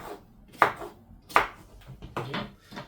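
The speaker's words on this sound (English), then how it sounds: "when I start cutting them up more, there's more vegetables in there" A knife chops Mexican squash (calabacita) on a cutting board for albondigas meatball soup, giving about five close, sharp strikes in an uneven rhythm with no talking.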